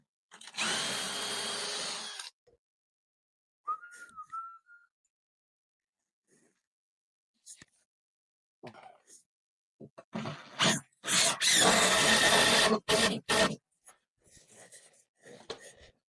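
Two bursts of a power drill boring a pilot hole in timber, short and then longer, separated by quiet handling noises and small knocks.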